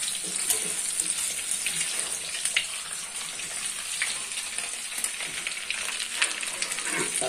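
Eggs frying in hot oil give a steady, close sizzle with small crackles and pops, no talk.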